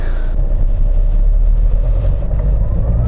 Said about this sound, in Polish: ja mu na jedynce czekam, aż ta turbina się rozkręci